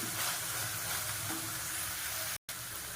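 Onions frying in a pan, a soft, steady sizzle and hiss at low level with a brief dropout near the end.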